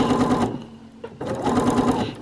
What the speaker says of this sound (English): I'm now top stitching it down from the wrong side